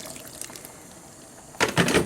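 Clean water is poured into a pot of bean soup with squash and Romanesco cauliflower, a short splashing gush near the end after a quiet stretch.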